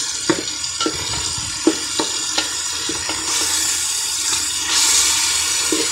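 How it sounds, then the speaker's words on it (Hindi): Chicken sautéing in a pan with tomatoes and green chillies: a constant hissing sizzle with regular scraping stir strokes, close by, growing a little louder toward the end. "टमाटरों और हरी मिर्चों के साथ चिकन को करते हैं अच्छी तरह से सॉटे।"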